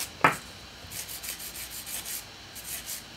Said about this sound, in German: Nagel natürlich schön schmal feilen, weil es wird ja ein Ballerina-Nagel.